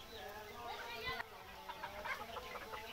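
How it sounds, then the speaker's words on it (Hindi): Free-range desi chickens and roosters about four months old cluck and call on a poultry farm, scattered bird sounds overlapping in a busy outdoor mix, fairly faint. "ये मुर्गे मुर्गियाँ 4 महीने हो गया सब"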